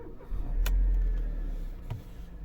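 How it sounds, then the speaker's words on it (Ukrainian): A 2007 Mercedes B 170 with a 1.7-litre petrol engine cranks briefly and catches, then settles into a low, steady idle rumble nearby. "Включив запалення, заводимо."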